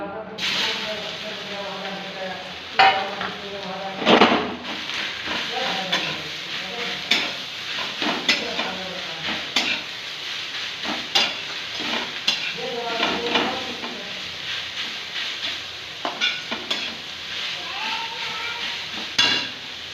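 Grated bottle gourd being fried in hot ghee in a home kitchen, a steady sizzle with repeated spoon scrapes and stirring clatter against the pan, close and fairly loud, with a voice speaking intermittently over it.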